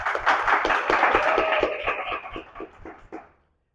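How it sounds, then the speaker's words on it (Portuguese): A small audience claps in response to a call for applause for influential television figures at a late-night talk event, the clapping steady and moderately close before thinning out and fading over the last second. "Uma salva de palmas para elas, por favor"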